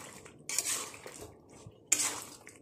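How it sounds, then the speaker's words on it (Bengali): A spoon scrapes and clatters against a pot as jackfruit pieces and partly boiled meat are stirred together, in two distinct bursts of close, clanking strokes over quiet background. "কাঁঠালগুলো দিয়ে ভালো করে নেড়ে চেড়ে নেব।"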